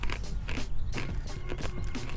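Someone bites into and chews crunchy Corn Nuts up close, a rapid run of dry cracking crunches repeating steadily without pause and with no talking.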